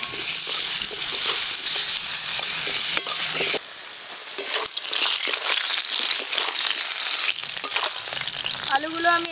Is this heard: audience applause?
no